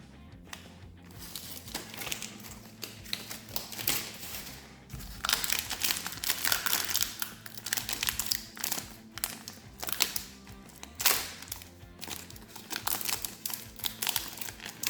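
Cardboard trading card boxes and plastic packaging being ripped open, with a steady run of crinkling, tearing and crunching bursts that grow louder and denser midway, close up and without talk.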